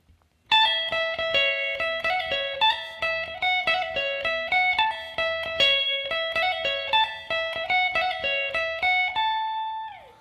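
A guitar plays a riff at full tempo, with quick syncopated picked notes in a repeating bouncy pattern, clear and close, ending on a short bending note.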